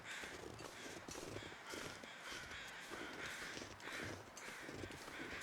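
Repeated crow caws from The Long Dark sound in a regular series of rasping calls, faint and far off, over a constant airy background hiss, without any voices.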